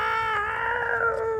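A narrator's voice imitates two cats growling at each other: a single drawn-out, tonal, strained growl lasting just over a second, fairly quiet and heard alone.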